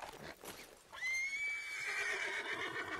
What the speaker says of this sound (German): Sorry, ich krieg das scheiß Pferd nicht.